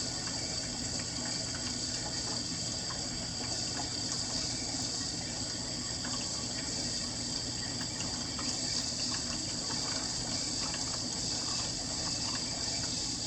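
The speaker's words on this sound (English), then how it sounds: "Send more water through the reservoir." Steady rushing water from a Jebao DCS-12000 pump flowing through a reef tank reservoir, a constant broadband wash with no breaks, close and moderately loud throughout.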